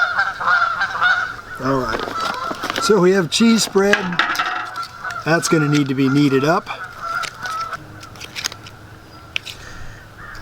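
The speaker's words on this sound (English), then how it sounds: "I think they took their goose argument elsewhere." Geese honk and squabble nearby in a rapid, overlapping series of loud calls, with dishes and cutlery clattering and someone talking briefly in between.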